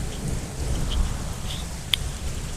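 Heavy monsoon rain pours down steadily, a dense continuous wash of noise with low rumbling beneath, and a single brief sharp crack stands out near the end.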